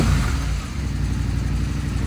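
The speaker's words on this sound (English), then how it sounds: "it still has a very nice" Steady engine drone from a KTM 890 Rally or Husqvarna 701 adventure motorcycle with a modified exhaust, a continuous low rumbling note holding fairly even over two seconds, close and loud with no talking.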